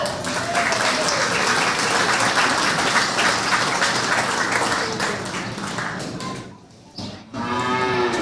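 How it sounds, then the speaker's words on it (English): Audience applause rings out at a Worth County Fair beef cattle show, thick and continuous for several seconds, briefly dropping away before a second burst resumes near the end. "Let's give these guys another round of applause."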